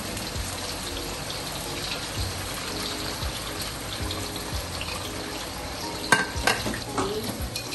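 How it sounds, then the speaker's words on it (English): Tofu frying in a pan for sambal goreng, a steady close sizzle with occasional scraping stirs of a utensil and a sharper clatter toward the end. "So when you fry your tofu, let it fry for a while."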